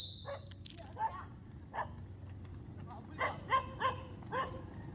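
A dog barks repeatedly in short yips at a distance, faint and intermittent outdoors in Little Baguio, Iba, Zambales, over steady background noise.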